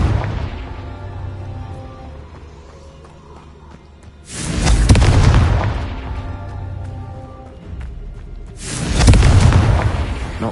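Two huge booming fire-blast explosions from the Confringo spell in the Hogwarts Legacy video game, each a sudden loud blast that rolls off slowly, set apart by a few seconds of humming game ambience.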